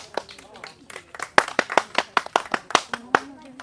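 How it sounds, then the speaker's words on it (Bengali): Sharp, distinct hand claps ring out in a quick, uneven rhythm to cheer participants in a rural ping pong ball throwing game. A voice talks between and over the claps. "জোরে একটা হাততালি"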